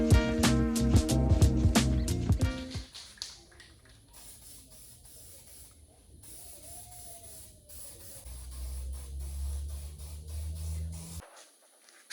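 Silver galvanizing spray paint hisses onto a rusty boat trailer being restored, in a faint, steady spray that comes after some louder clanking at the start.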